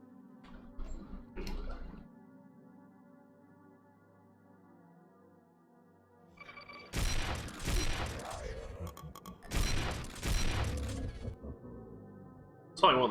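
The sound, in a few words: shotgun firing in the video game Doom 2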